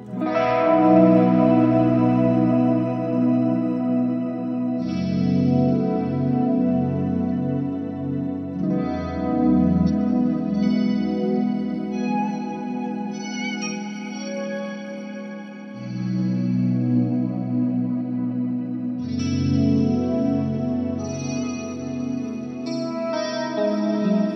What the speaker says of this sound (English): And the mini vibe. It just adds some awesome texture.